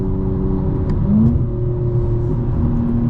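A 2025 BMW M4 Competition xDrive engine drones loudly and steadily after a downshift to fourth gear, pitch climbing gradually as it accelerates, heard up close from inside the car.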